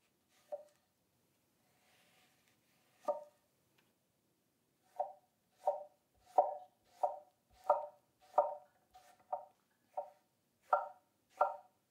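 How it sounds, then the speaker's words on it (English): A nakiri honyaki knife draw-slicing through food on a cutting board, heard as a series of crisp, evenly spaced cuts that speed into a steady rhythm after a few scattered strokes, close and quiet, with no talking. "the draw slice is freaking awesome with the Nakiri"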